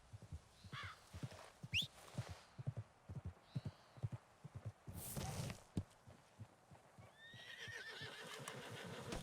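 A horse in the video game Red Dead Redemption 2 gives a couple of whinnies over quick rhythmic hoof clip-clops, fairly faint against quiet game ambience.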